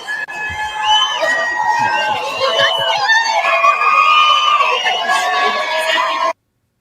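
A large crowd yells, cheers and screams loudly and continuously during a speech at a verdict watch, a dense, sustained roar that ends abruptly.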